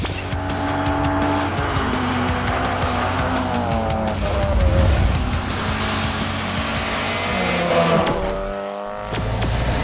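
Race cars roar on a circuit at the start of a class race, engines revving and shifting loudly with tires squealing, a continuous close blast of motor noise that dips briefly near the end.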